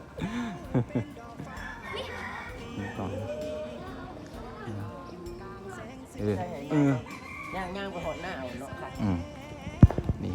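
A rooster crows at a rural home where chickens and ducks are kept, its calls rising over a busy, cluttered background with people talking nearby.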